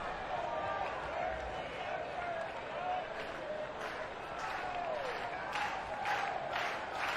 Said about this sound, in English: And the crowd once again encouraging a punch out.